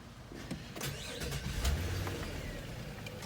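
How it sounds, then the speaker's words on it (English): A Nissan car engine cranks and catches, settling into a steady idle with a brief starter whir near the start; fairly quiet and close, with no voices. "we're going to start the car immediately"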